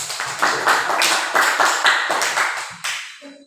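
A classroom group applauding group 3, a few hands clapping in an uneven patter of sharp, close claps that taper off and stop with a short ringing tone at the end.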